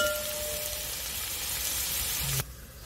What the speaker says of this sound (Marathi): आता आपण ह्याच्यामध्ये कांदा टाकून कांदा फ्राय करून घेऊया।